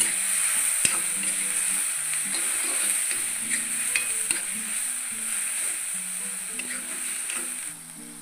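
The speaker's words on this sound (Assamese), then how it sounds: "এয়া শাক দিছোঁ দেই।" Mustard greens fry in oil with turmeric and salt, giving a steady, bright sizzle, with occasional scraping stirs and light clicks of a utensil throughout.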